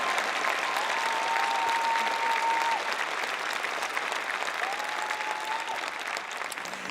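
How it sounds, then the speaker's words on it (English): A large convocation audience gives sustained applause for the graduating class of 2022. Dense, even clapping continues for about seven seconds, with a couple of long whistles rising above it. "Would you give them a big round of applause?"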